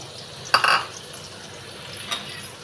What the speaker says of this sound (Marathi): आता आपण हे बारीक चिरून ठेवलेला कांदा टाकायचा याच्यामध्ये